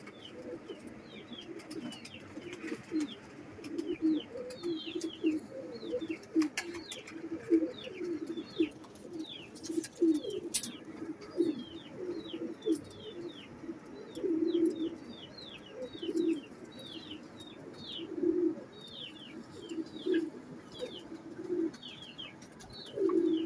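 Red-eyed Lal Aankh pigeons coo steadily in low, throaty, rhythmic phrases, close and continuous, with faint chirps from other birds in the background.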